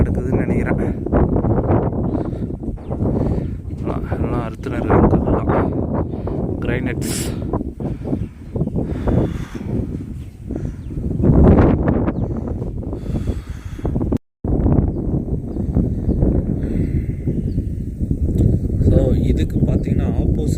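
Heavy wind buffets the microphone at a Yelagiri hill viewpoint in loud, rumbling gusts, with a person talking through much of it and a brief dropout near the middle.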